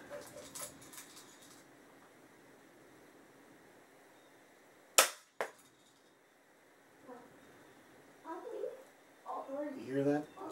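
A Daisy 99 Target Special BB gun fires one sharp, loud crack, followed about half a second later by a fainter snap, against a quiet background. Voices murmur faintly near the end.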